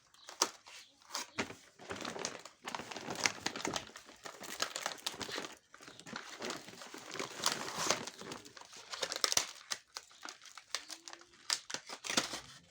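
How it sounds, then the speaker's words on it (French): Cardboard and packaging from a toy box crinkle and rip in close, irregular bursts, quick rustles and tears coming in uneven clusters with brief pauses between them. "Tu peux déchirer la boîte, hein, c'est pas grave."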